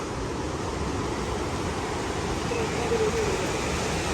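Sea waves wash onto the beach at Ross Island in a steady, continuous roar of surf, with a faint breathy wash that could be wind over it.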